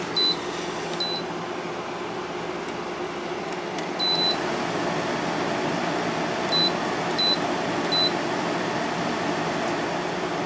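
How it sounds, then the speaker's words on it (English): GE window air conditioner running with its compressor on, giving a steady broadband drone broken by several short, high electronic beeps from the unit. "Compressor just started back up on that one."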